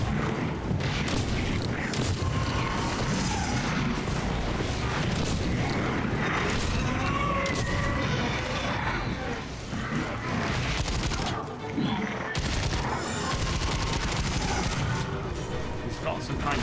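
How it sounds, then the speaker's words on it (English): A sci-fi shotgun fires repeatedly in a video game, heavy booming blasts amid dense game action, explosions and mechanical clatter, loud and continuous throughout. "Sci-fi shotgun, right?"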